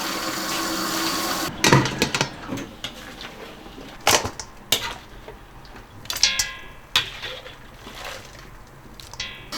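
Running water rinses a sandy-skinned iron-stick Chinese yam, unpeeled, with a steady wash of flow broken by several sharp knocks and splashes as the yam is handled and scrubbed.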